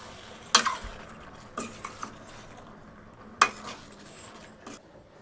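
Pasta being stirred into white sauce in a pan, with a few quiet spoon knocks and scrapes against the pan over a faint low simmer.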